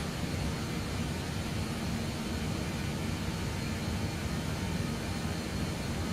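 Steady airplane engine drone in Microsoft Flight Simulator 2020, a continuous broadband roar holding at an even level throughout, alone with no talk.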